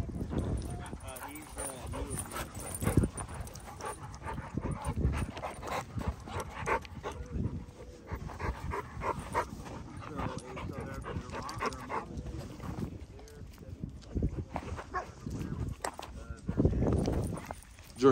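A pit bull and a golden retriever growl and bark in a scuffle while people talk and shout over them throughout.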